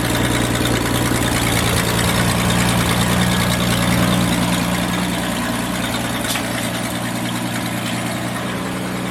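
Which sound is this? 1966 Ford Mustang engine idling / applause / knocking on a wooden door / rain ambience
1966 Ford Mustang engine idling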